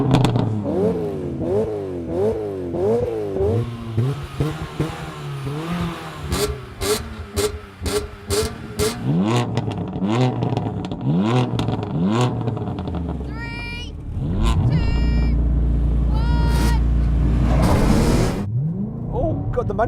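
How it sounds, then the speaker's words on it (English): Several generations of BMW M3 launch hard in a drag race, their engines loudly revving up and dropping through repeated gear changes, ending in a sustained high-pitched roar with clattering bursts. "we're going to have a drag race"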